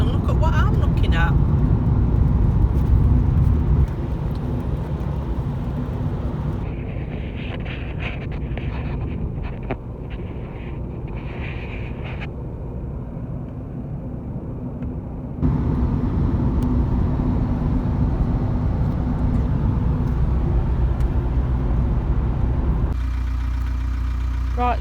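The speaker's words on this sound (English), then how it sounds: "we're going to be in the car for a while" Inside a moving car, a steady low engine and road rumble fills the cabin, shifting in level a few times as the drive continues, with some talking over it.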